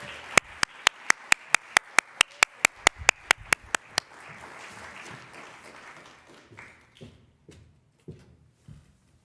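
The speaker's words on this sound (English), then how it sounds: "I would love a warm round of applause for Dr. Robin Magalit Rodriguez." Rhythmic, evenly spaced hand claps from a symposium audience welcoming a speaker, crisp and close for about four seconds, then breaking into looser scattered applause that fades to a few isolated claps.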